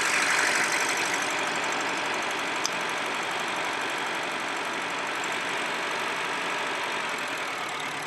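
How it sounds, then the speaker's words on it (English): A 2004 Acura engine idling with an ignition coil unhooked, running with a steady, uneven mid-range drone and faint knocking throughout, close and continuous with no talk. "And you see the engine changes sounds."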